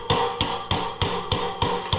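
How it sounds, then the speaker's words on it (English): An adjustable crescent hammer strikes metal while a fence is being unhooked, giving seven sharp, evenly spaced blows about a third of a second apart, close and clear with nothing else heard. "you got to do some hammering too"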